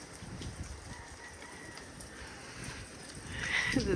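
Hail falls in a dense, steady patter outdoors, a fairly faint and continuous rattle that swells slightly toward the end.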